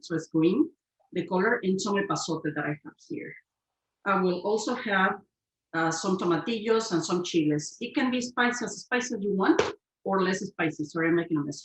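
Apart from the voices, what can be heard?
None of the usual background noises is heard.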